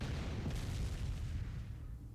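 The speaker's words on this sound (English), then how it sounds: "she has the power to create tiny rock explosions" Rumbling explosion blasts from the video game Madoka Magica Magia Exedra, a dense low boom that fills the short stretch at steady loudness before easing slightly near the end.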